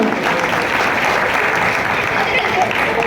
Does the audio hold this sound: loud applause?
yes